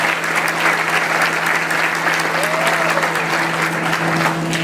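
Strong, continuous audience applause at a civic report ceremony honoring a young award recipient, many hands clapping evenly throughout with a steady hum beneath.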